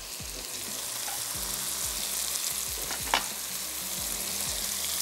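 Onion fries in a tablespoon of oil in a pan, a steady close sizzle with repeated low scraping stirs and a sharp clink near the middle, with no voices.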